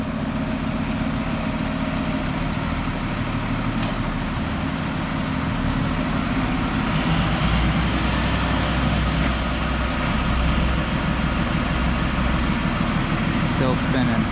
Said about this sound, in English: Kyle brought the bigger truck out, see if we can pull it out with that.